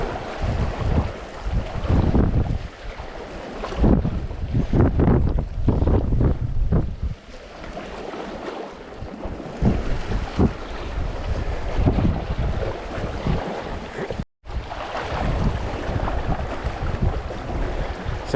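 Strong coastal wind buffets the microphone on a rocky shore by the sea, a loud continuous roar with gusty surges and waves washing underneath and a brief cut near the end.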